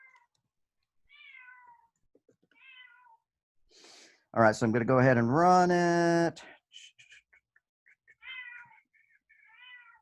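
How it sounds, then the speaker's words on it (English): A cat meows loudly nearby, one drawn-out, wavering call in a quiet room, while someone speaks briefly before and after. "I'm going to have to go and quiet my cat in a minute."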